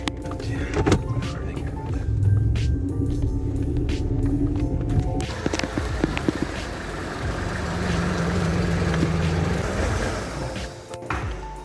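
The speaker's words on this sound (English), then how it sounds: "Plus the check engine light is on and she's having a hard time idling." A Mercedes with its check engine light on idles roughly, a steady low rumble with uneven clatter running the whole time and a few sharp clicks over it.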